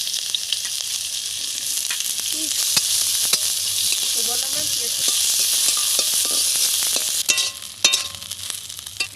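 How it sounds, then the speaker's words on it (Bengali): Chopped onion frying in a small amount of hot oil in a kadai, giving a steady, close, broadband sizzle throughout, with faint stirring clicks and a brief voice near the end. "তেল গরম হয়ে গেছে, আমি একটা পেঁয়াজ কেটে নিলাম।"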